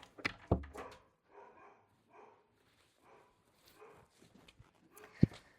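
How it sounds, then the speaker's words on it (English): A dog that has just been put out of a room gives a couple of loud barks at the start and another sharp bark near the end, with brief talk in between. "I am going to kick the dog out."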